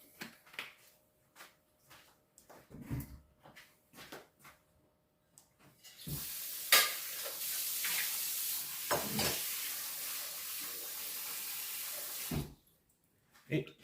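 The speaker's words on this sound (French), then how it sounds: "Un petit peu de vin." Red wine pours steadily into a simmering pot of chicken bourguignon, a sustained splashing gush lasting several seconds after scattered clicks and light knocks, with a spoken voice nearby.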